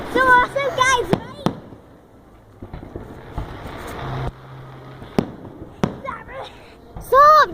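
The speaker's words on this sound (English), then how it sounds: "look at the fireworks!" Fireworks bursting on Bonfire Night, several sharp cracks and bangs scattered through the stretch, some with crackling tails, while excited voices shout and talk over them.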